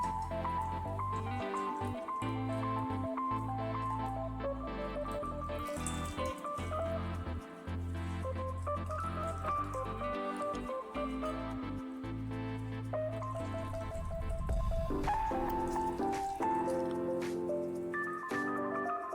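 Wet squishing as soaked soybeans are squeezed by hand to press out the water, heard faintly beneath steady background music.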